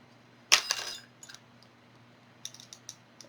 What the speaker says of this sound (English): So we are just going to screw this in.